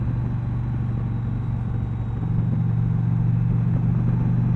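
An Indian Challenger motorcycle cruising at about 50 mph in fifth gear on a 45 mph road near Lake Anna gives a steady, loud, unbroken engine drone mixed with wind rumble throughout.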